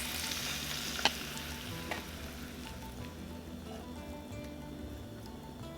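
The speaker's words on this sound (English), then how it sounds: "Stir fry for about a minute." Beef slices and scallions stir-fry in hot oil, a steady close sizzle broken by a sharp utensil clack near the start and a softer knock around two seconds in.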